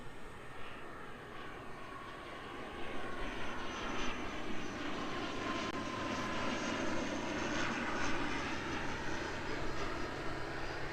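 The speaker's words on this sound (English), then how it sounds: "Awesome departure there from the Singapore Airlines A350-900" A Singapore Airlines Airbus A350-900 departing, its jet engine roar swelling from a moderate rumble to a louder, sustained broadband rush with a faint tonal whine, heard at a distance and without talk.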